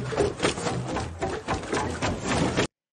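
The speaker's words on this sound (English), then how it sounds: "what I did was I took a piece of this building wood sample." Dense clattering and knocking from the Fortnite wood building sound rattles continuously for under three seconds before cutting off abruptly.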